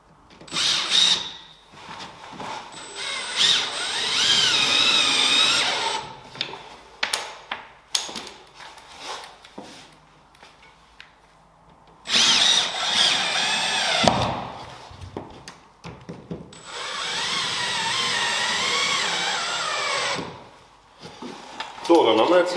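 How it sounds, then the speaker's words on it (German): A power drill drives screws into wooden battens as a backing frame behind drywall, in several loud whirring bursts a few seconds long, separated by pauses with quieter handling noises. "Und diese Holzdinger schraube ich mir jetzt als Unterkonstruktion quasi so dahinter."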